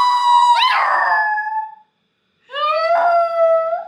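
A dog howls twice, two long, wavering, rising-and-falling howls with a short silent pause between them, close and loud with no talking.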